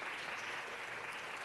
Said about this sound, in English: if we could give these young people a round of applause